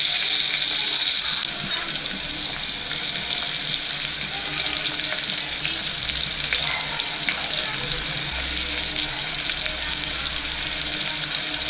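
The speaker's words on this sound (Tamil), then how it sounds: "ஆனியன், பூண்டு, கருவேப்பிலை இதெல்லாம் ஆட் பண்ணிப்போம். நல்லா வதக்கிட்டோம்." Onion, garlic and curry leaves sauté in a pan for sambar rice, giving a steady, fairly loud sizzle that runs through the whole stretch with faint scraping of stirring.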